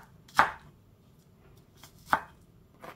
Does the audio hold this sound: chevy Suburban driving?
no